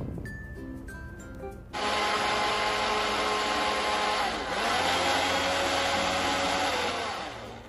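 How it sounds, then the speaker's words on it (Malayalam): Blender whirring through a nut milkshake, switching on sharply after a moment of quiet kitchen sounds and running loud and steady to the end, its pitch shifting slightly as the mix thickens. "എന്നിട്ട് നന്നായിട്ടൊന്ന് ബ്ലെൻഡ് ചെയ്തെടുക്കാം."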